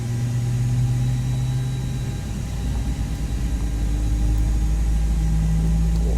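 A deep, steady Airbus A320neo jet engine rumble in the X-Plane 10 flight simulator drones on with a low hum and a faint whine above it, constant and fairly loud.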